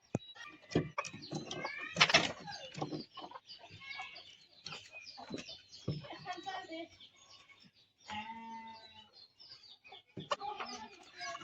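Village hens cluck and squawk in a yard in rural Bangladesh, close and irregular bursts with a loud cackle early on, scattered across the stretch.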